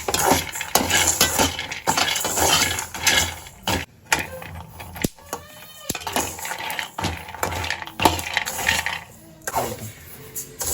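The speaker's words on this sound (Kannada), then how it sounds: "ಪಿಸ್ತಾ ಹಾಕ್ತಾ ಇದ್ದೀನಿ ಆ್ಯಂಡ್ ಬಾದಾಮಿ ಹಾಕ್ತೀನಿ" Pistachios, almonds and walnuts dropped into a dish for homemade ragi malt, a scatter of hard clicks and rattling taps in irregular bursts, close and moderately loud, with short pauses between handfuls.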